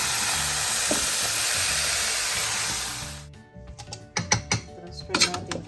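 Food sizzles loudly in a kawali (frying pan) for about three seconds, then the hiss stops and is followed by sharp clinks and knocks of cookware being handled.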